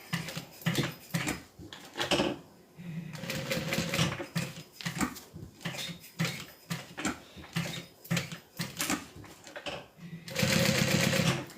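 A Juki 1181 sewing machine stitching a custom bag in bursts of rapid mechanical chatter, close and loud, stopping and starting between runs, with a longer sustained burst at the end.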